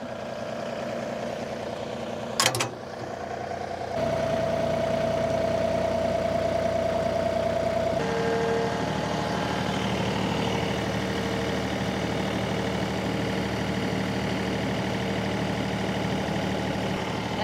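A tractor engine idles steadily and unattended on a farm, a continuous mid-to-low rumble with a constant tone that holds throughout, broken early by one brief sharp clunk, with no speech.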